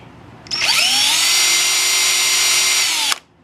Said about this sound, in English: I think that should go into the drill now.